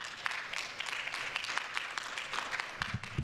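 A fan-event audience applauds panel guests at a Digimon voice-actor session: steady, quiet, distant clapping from a crowd, sustained throughout with no talking.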